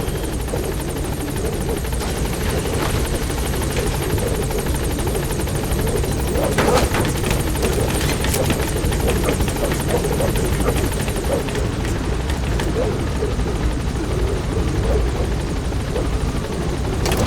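A helicopter in Metal Gear Solid V: The Phantom Pain lifts off, its rotor thudding in a continuous close, loud, low chop with a turbine whine that holds steady throughout.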